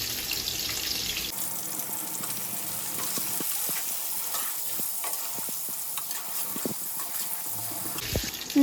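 Sliced onions sizzle as they hit hot oil for a meat curry, a bright, steady hiss that fills the kitchen and holds through the whole stretch, with soft stirring clicks and a sudden change at the very end.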